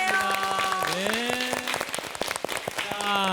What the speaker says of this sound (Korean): 큰 박수로 응원해 드릴게요.